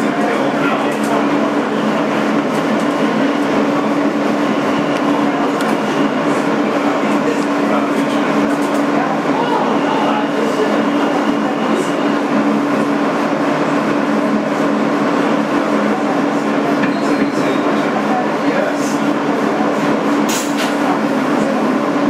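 Steady onboard roar of a 2008 Kawasaki R-160B subway car running as an N local on the Sea Beach line, with continuous rumbling, a droning motor tone and occasional high squeals from the rails.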